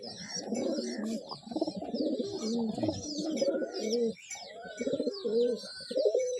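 Pigeons coo steadily in low, throaty rolling calls, with several birds overlapping and some higher chirps mixed in, close by and continuous.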